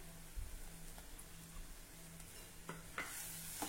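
Spiced stuffing with chaat masala, salt and coriander stirred in a pan for stuffed capsicum, a quiet low sizzle with soft scraping strokes and a couple of sharper spoon taps near the end.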